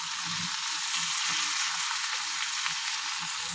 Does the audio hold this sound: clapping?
no